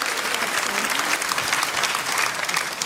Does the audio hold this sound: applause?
yes